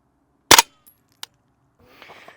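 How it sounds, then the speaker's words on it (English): Single sharp rifle shot fired while zeroing an IR laser on target, loud and close, followed by a faint click and a brief rustle. "I'm gonna demonstrate now making a slow controlled shot once you're on the glint tape"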